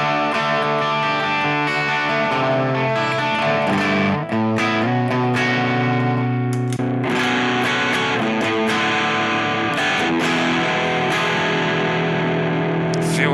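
Electric guitar played through a Plexi amp model on a Boss GT1000 multi-effects unit, giving a loud, distorted tone with sustained chords and single-note runs that carry on steadily without pauses.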